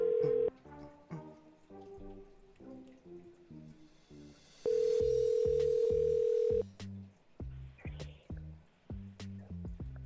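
A steady telephone dial tone sounds twice, briefly at the start and then for about two seconds mid-clip, while a call is placed to a viewer during a live morning stream, with other short tonal beeps and pulses around it.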